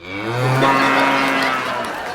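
A single loud, sustained low moo from a buffalo sitting in the road in front of a braking vehicle, swelling and fading over about two seconds on a comedy stage set.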